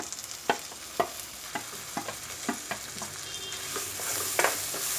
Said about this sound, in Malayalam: മസാല ഒന്ന് ഇതിൽ ഒന്ന് ഫ്രൈ ചെയ്യണം രണ്ട് മൂന്ന് മിനിറ്റ് മസാല ഒന്ന് ഫ്രൈ ചെയ്യണം